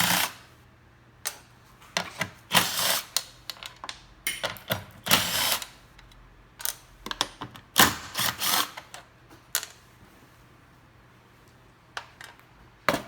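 A ratchet wrench clicks in short, uneven bursts while removing 10mm nuts from the fuel pump brackets of a Honda EU7000i generator, close up with metallic clinks and pauses between turns over a low steady hum.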